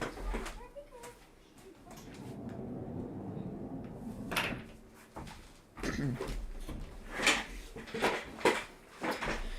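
A bedroom door being closed indoors, with handling noise followed by a few knocking and thudding bumps, with some voice and movement around it.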